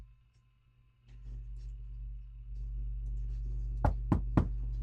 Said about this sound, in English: knock at the door